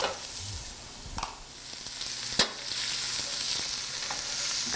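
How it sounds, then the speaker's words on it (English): Onion, carrot and celery sautéing lightly in a pan, a steady soft sizzle with a few sharp scrapes and clinks of stirring scattered through, no talking. "we're going to start by lightly sauteing all of our vegetables"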